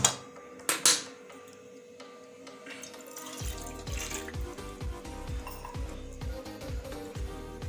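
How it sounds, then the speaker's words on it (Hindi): A glass of water is poured into a small kadhai: a couple of sharp knocks of the glass, then a steady near splashing stream that runs on with a low rumbling fill. "उसमें 1 गिलास पानी डालेंगे"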